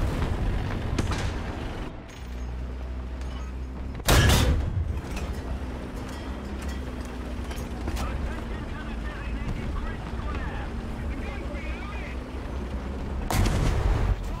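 Rapid cannon and machine-gun fire from a PT boat in War Thunder, booming near the start and end over a steady engine and wind rumble.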